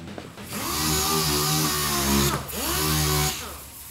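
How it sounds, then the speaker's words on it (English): A dual-action sander whirs steadily at close range on a car panel, its pitch dipping briefly as the pad is lifted and pressed back down; no talking. "You get your DA sander"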